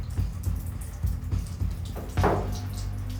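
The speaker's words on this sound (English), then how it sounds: "Why is water coming out this way?" Water spurts unevenly from a tap in a tiny bathroom, coming out in short splashing bursts with one louder gush near the end, close by and moderately loud.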